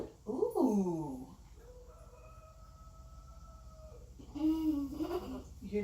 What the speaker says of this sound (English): You hear the chickens?